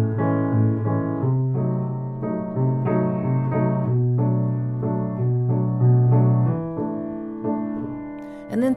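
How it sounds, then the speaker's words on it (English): Piano playing a song on its own, a steady run of chords and melody notes at an even tempo, close and moderately loud throughout, with no talking over it. "On the piano, it sounds like this"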